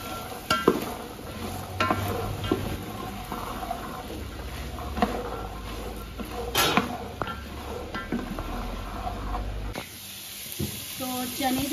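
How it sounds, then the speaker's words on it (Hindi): Black chickpeas sautéing with onion in a pan, a steady sizzle with occasional stirring scrapes and clinks, while someone talks over the cooking. "तो चने जो है हमारे ये देखें अच्छे से सौते हो गए और इस प्याज के साथ इसको 2 से 3 मिनट हो गए भूनते हुए"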